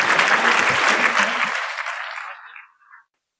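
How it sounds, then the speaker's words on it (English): An audience at a business presentation gives a round of applause, dense clapping that holds steady then thins and fades out over about three seconds. "Let's give Michael a round of applause."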